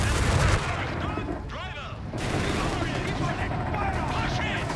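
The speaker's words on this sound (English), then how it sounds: "They're firing on us." Gunfire and artillery rumble in the World War II strategy game Company of Heroes 3, a dense, loud barrage of shots and blasts, with a voice speaking briefly in the middle of the din.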